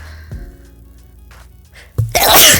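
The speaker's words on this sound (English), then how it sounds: "I need to sneeze" A single sharp, noisy burst near the end, close and loud, after a quiet stretch with faint low humming and small indoor noises.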